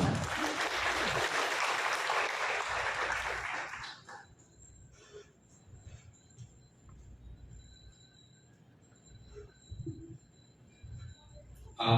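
Audience applause at a university graduate school recognition day ceremony, a dense, loud wash of clapping for about four seconds that then cuts off, leaving a quiet hall with faint rustles and scattered small noises.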